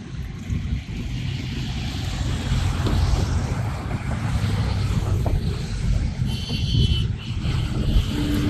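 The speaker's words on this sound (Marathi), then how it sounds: "हे पाणी या पूर्ण शिवारात असं वाहू लागलं आहे" Flood water of the Adila river near Bale bridge, Solapur, spreading across open fields: a continuous broad rushing roar, steady and fairly loud, with wind buffeting the microphone.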